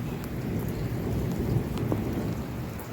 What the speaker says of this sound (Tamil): மழை துளி